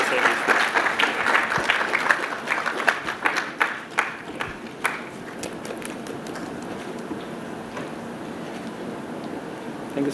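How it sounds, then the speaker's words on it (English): An audience at a seminar bursts into applause for people called on stage, with dense clapping that thins out into scattered claps and fades after about five seconds. "Everybody, please give them a round of applause."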